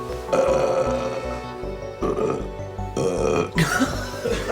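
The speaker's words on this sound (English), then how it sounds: "hit me with a couple burps" Repeated loud burps, several in a row, each a low guttural eructation lasting around a second, close to the microphone with a brief pause between them.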